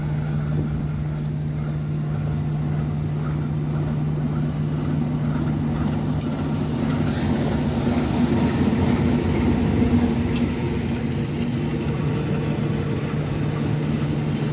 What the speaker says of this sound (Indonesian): kini akan segera masuk kereta api Sawunggali ya di stasiun Perupuk ini